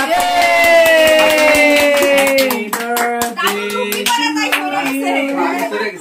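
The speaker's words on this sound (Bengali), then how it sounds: "এবার মাসি হাততালি হবে" Guests at a home birthday party clap by hand during the cake cutting, quick uneven claps under a loud sustained singing voice.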